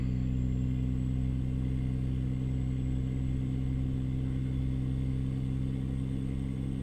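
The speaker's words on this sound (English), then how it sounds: "Kenworth 900 running fantastic today with the Z mods." A Kenworth 900 truck with Z mods runs at a steady, deep idle-like drone, a constant low rumble with a faint high whine above, close and unbroken for the whole stretch.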